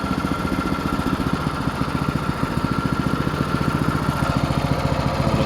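A go-kart engine with a Duramax 208 cc motor runs close by, steadily idling with a rapid pulsing chug that speeds up slightly over several seconds, with no talking.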